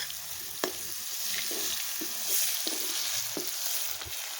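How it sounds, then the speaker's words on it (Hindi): Wild fig curry mixed with garlic, chili and salt frying in oil, a soft, steady sizzle with scattered stirring clicks and scrapes, close and fairly quiet, with no talk. "ऑयल में डाल के इसको पका लेंगे"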